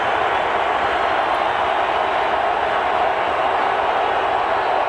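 A large, noisy crowd cheers at the RCA Dome during an NFL divisional playoff football game, a steady loud roar with no breaks.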